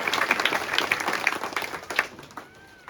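Applause for six paramilitary soldiers at a gathering, a dense crowd clapping steadily at moderate distance that thins and fades out near the end.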